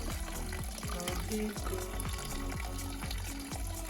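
Pond water drains out during a weekly water change with a continuous splashing, gurgling rush close by, while a person speaks briefly over it.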